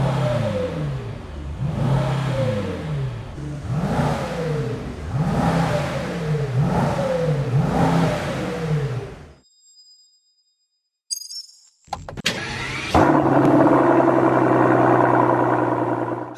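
A Mercedes-AMG GT63 S E-Performance with LARTE design bodywork revs hard about eight times in a steady rhythm, loud and close. After a short silence, a few clinks sound, then the engine starts and settles into a strong idle.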